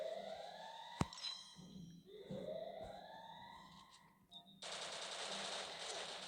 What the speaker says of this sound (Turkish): Seri atışlara bayılıyorum.